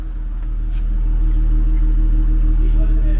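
A new Cummins 12-valve diesel in a shop truck runs at a steady, loud, close idle, giving a continuous low drone with even harmonic tones.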